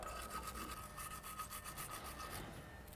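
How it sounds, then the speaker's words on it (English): A wire brush scrubs back and forth over the mating surfaces of a brake caliper during a brake replacement, a steady close rasping rub repeated in quick strokes with no talk. "So you can use a wire brush."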